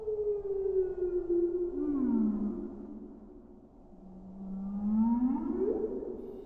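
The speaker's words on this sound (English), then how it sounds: "when we record him with a special microphone that allows us to slow him down significantly without a reduction in audio quality" Bird song slowed down to a fraction of its speed from an ultrasonic recording, revealing the syrinx as long, smooth, wavering tonal glides that swoop low and rise again, like a moaning whale call, alone without talk.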